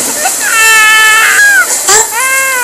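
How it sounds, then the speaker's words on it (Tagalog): An infant cries loudly and continuously in a dark house, with long wavering wails rising and falling for the full length, close to the listener and loud, no other voices present. "Parang may baby na umiiyak."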